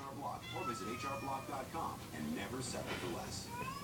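A cat meows several times amid ongoing talk, the calls moderately close and mixed with voices throughout.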